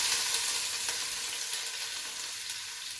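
Onions frying in warm olive oil in a pre-heated pot, a steady dense sizzle with a faint crackle running evenly throughout, close and fairly loud.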